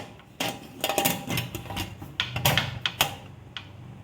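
Metal lid set over a kalathappam pot on a switched-off stove: a cluster of sharp clinks and clatters, then a few lighter taps as the lid settles, close and clear.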